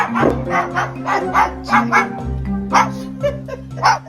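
A cockatoo imitates a dog, giving a rapid series of short, yappy barks and whimpers, close and fairly loud.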